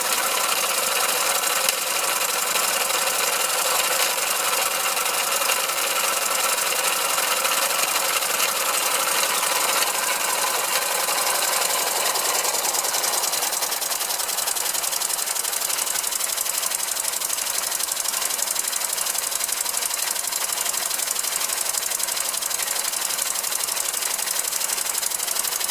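Hand-built oscillating engine of 1912 design on a small wooden base, running with a steady rapid chuffing rhythm and hiss, moderately loud and close, unbroken throughout with no talking.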